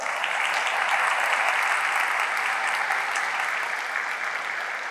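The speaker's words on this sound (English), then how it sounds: "Let's give these folks a hand of applause." Steady, dense applause from an audience at a State of the City address, greeting guests such as a former councilwoman; the clapping stays loud and even for the full stretch with no voices over it.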